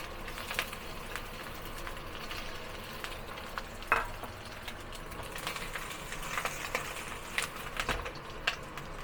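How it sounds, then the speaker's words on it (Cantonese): Pieces of fish belly sizzle in plenty of hot oil over medium-high heat, a steady soft crackle with occasional sharper pops and light clinks, no talk over it. "好啦，咁我哋用個中大火去煎佢第一面"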